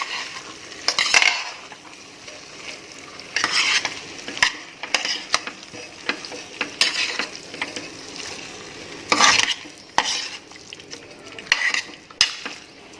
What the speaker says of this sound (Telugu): వాటిని ఇందులో యాడ్ చేసుకుంటున్నానండి. ఇప్పుడు ఒకసారి మిక్స్ చేసుకుంటానండి.